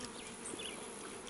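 Dense, steady buzzing of many bees close by, a continuous hum with no talking.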